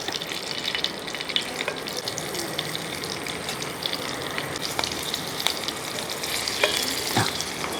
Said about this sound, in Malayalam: ഒരല്പം വെളിച്ചെണ്ണ അങ്ങോട്ട് ഒഴിച്ചു കൊടുക്കാം അപ്പോൾ എണ്ണ ഒന്ന് ചൂടാൻ ശേഷം നമ്മൾ എല്ലാം കൂടി പറക്കി അങ്ങോട്ട് ഇട്ട് കൊടുക്കുക